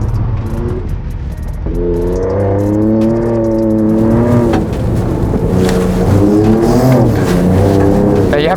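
A 2023 Ford Raptor pickup on country roads in Baja mode with locked diff and manual shifting, engine loud and close, revving up through gears with rising and falling pitch and a steady throaty drone.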